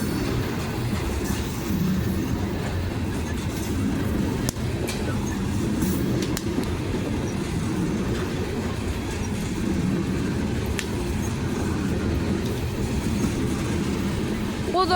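A BNSF freight train with several locomotives rolls past in Bridgeport, Alabama, a loud continuous rumble with wheel clatter and occasional squeals, while people talk nearby.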